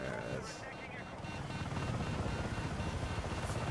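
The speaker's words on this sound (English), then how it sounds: "Is that you in the chopper?" Helicopter flying in Battlefield 6 gameplay, a continuous rotor drone that grows louder and steadier, with voices talking over it.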